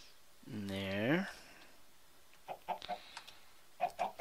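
Chickens in a video game let out one drawn-out call, followed by several short, soft clucks in quick bursts. The sounds are faint but distinct against a quiet background.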